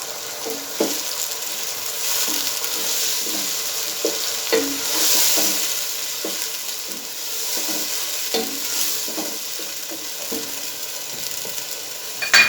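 Half a kilo of chopped tomatoes frying with spices in a pan, a steady close sizzle with occasional stirring clatter and spoon scrapes throughout, and no voices.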